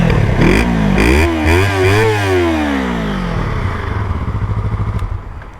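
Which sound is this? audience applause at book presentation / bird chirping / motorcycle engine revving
motorcycle engine revving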